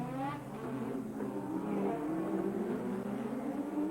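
Formula 1 cars from 1987 racing through the Monaco Grand Prix street circuit near the swimming pool complex, a faint distant whine of engines rising and falling without talk.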